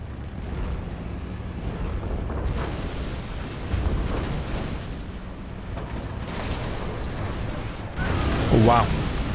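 A nuke blast in a real-time strategy match wipes out the player's own truck, a deep rumbling boom rising near the end over steady low battle noise, with a commentator talking throughout.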